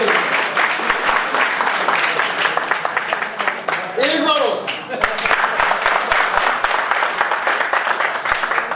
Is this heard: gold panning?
no